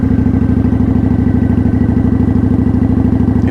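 A motorcycle pulls away slowly in first gear with light throttle, its engine thumping in a steady, even, close-up rhythm throughout.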